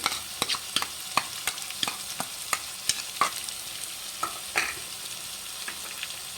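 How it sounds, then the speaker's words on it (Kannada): Capsicum stir-frying in a pan for gobi manchurian gives a steady soft sizzle broken by frequent sharp clicks and scrapes from stirring, fairly close and without any talking. "ಕ್ಯಾಪ್ಸಿಕಮ್ ಹಾಕ್ಕೊಳ್ಳಿ ಚೆನ್ನಾಗಿ ಫ್ರೈ ಮಾಡಿ"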